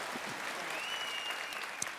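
An audience at a Tamil humour debate event applauds a speaker from Coimbatore named Sathya, a dense, even clapping that carries steadily throughout at moderate volume.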